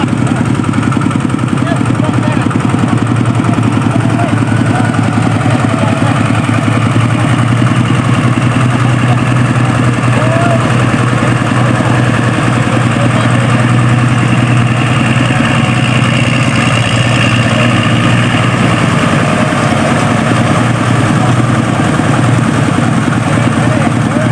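A small single-cylinder walk-behind tractor engine runs steadily and loudly nearby in a rice field, a constant chugging drone while someone talks over it.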